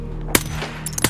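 Two sharp gunshots in the video game Escape From Tarkov, a loud crack followed about 0.7 seconds later by a second, quicker burst of rapid shots, ringing out over a steady low background hum.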